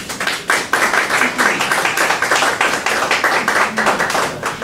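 A small audience at a sister city committee gathering gives speakers a warm round of applause, clear individual claps in a quick, uneven rhythm, close and fairly loud throughout.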